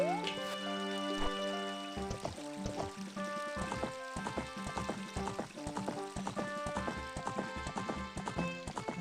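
A horse trots in a Zelda video game, with a quick, rhythmic clip-clop of hooves that stays close and clear over tonal game music.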